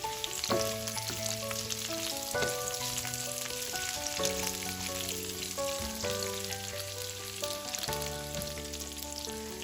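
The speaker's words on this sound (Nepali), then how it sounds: "यसमा राखेँ एउटा मिडियम साइजको प्याज, चलाइदिउँ एकचोटि।" A medium onion sizzling in a hot pan for mushroom chili, a steady bright frying hiss running throughout beneath louder melodic background music.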